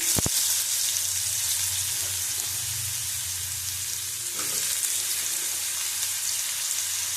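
Potato, eggplant and other chopped vegetables fry together in hot oil for a Bengali chorchori, giving a continuous, loud, even sizzle with a single sharp clack near the start and no talking.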